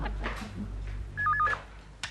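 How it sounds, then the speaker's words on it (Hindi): Telephone tones in a Hindi TV comedy scene, a short alternating two-pitch electronic ring near the middle of the clip, fairly loud over a low background hum, with a faint click at the end. "प्रेमा जी ने आपका नंबर दिया था इसलिए मैंने फोन किया।"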